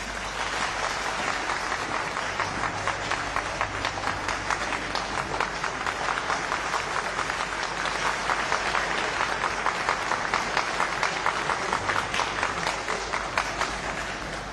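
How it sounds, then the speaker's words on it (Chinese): Warm, sustained applause from an audience at a Suzhou pingtan storytelling performance, a dense, even roar of many hands clapping that holds steady for the whole stretch, with no voices. "咱们是不是以热烈的掌声欢迎杨振雄先生和我们见见面"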